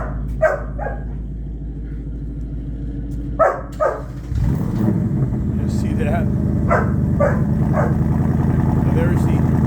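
Several sharp puppy barks and yips come in bursts early on, then a car with an open track exhaust starts and rumbles steadily underneath, with a brief spoken word.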